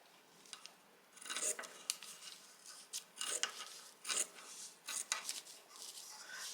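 Scissors snip through fabric to cut out a pattern for a lined black lace fringe purse, giving a series of crisp, close, irregular cuts separated by brief pauses in an otherwise quiet room.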